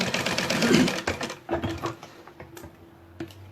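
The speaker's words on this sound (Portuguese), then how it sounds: "Aqui eu tô usando o ponto número 6 da minha máquina, porque é só uma costura de segurança." Domestic sewing machine on stitch number 6 running a safety seam along the very edge of a sublimation-printed bag, a fast close whirring rattle that surges, slows and stops with a few short bursts.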